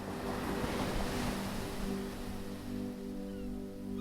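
Ocean waves and surf wash steadily nearby, a broad continuous roar with wind noise and a faint low tonal hum beneath it.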